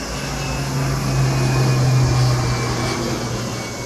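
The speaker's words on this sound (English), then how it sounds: "Look at this plane." A firefighting plane passes overhead while dropping water amid wildfire smoke in Cyprus, a loud continuous engine drone with a low hum that swells slightly toward the middle and then eases off.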